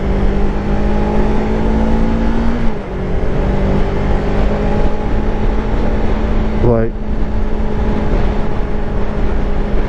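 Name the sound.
Yamaha R3 motorcycle engine revving in city traffic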